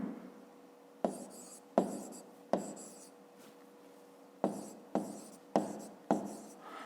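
A math exercise being written out by hand, heard as close pen-on-paper scratches in short strokes with brief pauses between them, quiet and with no voices.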